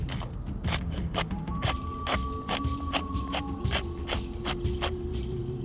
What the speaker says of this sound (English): Now season it with a little salt and pepper.